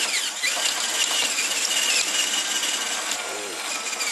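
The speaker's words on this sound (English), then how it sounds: "I'm going to just get some of that rust off, the heavy stuff." A power tool grinds heavy rust off Chevrolet C4 heater tubes, giving a continuous loud, high-pitched abrasive whine with a slight squeal, close and without talk.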